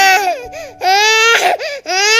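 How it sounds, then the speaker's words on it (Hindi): A recorded baby wails loudly in long, sustained cries that break into sobbing bursts, with brief gaps between the wails. "बच्चा रो रहा है, आप क्या सुना रहे हो मेरे को?"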